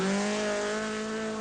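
A Datsun Violet rally car on a 1980 Mintex Rally stage passes with a steady, high engine drone held at high revs, loud and close, with no voices.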